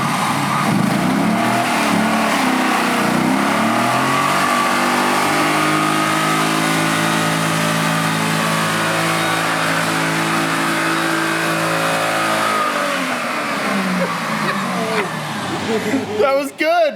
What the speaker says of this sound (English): I'm gonna do a burnout.